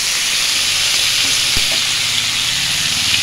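Potato pieces and capsicum frying in hot oil, a loud, dense, continuous sizzle with steady hiss and a faint clink partway through.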